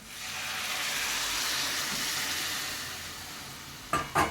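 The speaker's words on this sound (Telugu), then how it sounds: "ఆ నీళ్ళు అయితే మనము పోసేసుకోవాలి" Chicken stock pours steadily into a hot pan of chicken curry, a loud broad hiss and sizzle lasting several seconds, then a couple of clinks at the end.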